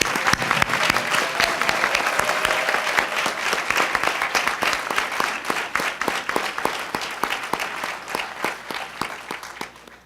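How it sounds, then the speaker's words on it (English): Audience applause at a pay equity pledge signing press conference, a strong round of crisp clapping from many hands that holds for several seconds, then tapers into scattered claps and fades out. "Can we have a round of applause for all of our early adopters?"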